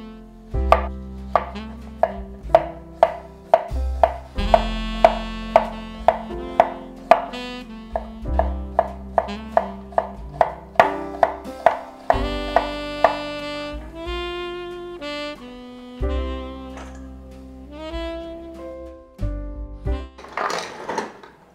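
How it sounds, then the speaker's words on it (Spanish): A red onion sliced into thin strips with a knife: a long run of crisp, regular chops, close and distinct, slowing near the end, with music playing underneath. "vamos a picar una cebolla cabezona, en este caso roja, vamos a picarla en plumas"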